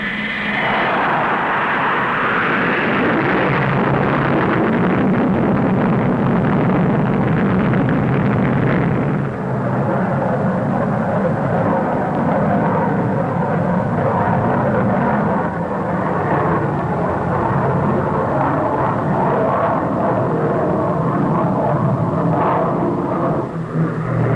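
A Fairey Delta 2 jet aircraft takes off down a runway with a loud, broad, continuous roar that swells early and holds steady throughout, close and without any voices.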